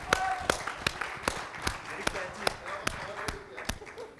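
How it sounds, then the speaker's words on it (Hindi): Sparse, evenly spaced claps ring out at a book-launch presentation, about ten sharp hits in a steady rhythm, fairly faint and close, like one or a few people clapping. "लवली, जोरदार तालियां।"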